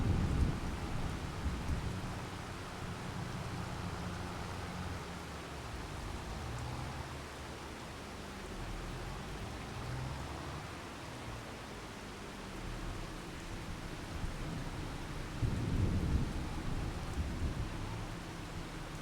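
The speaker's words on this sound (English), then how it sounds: "this little storm that we've got going here. Little rain cloud, storm cloud." Continuous heavy rain hiss with low rolling thunder rumbling underneath, swelling briefly near the end, from a storm in the video game Farming Simulator 25; no voices.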